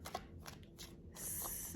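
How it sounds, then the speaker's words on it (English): Freebird Spirit Lenormand cards are shuffled up close in short soft riffling bursts, ending in a steadier, brighter run of flicking card edges. "they shuffle really easy"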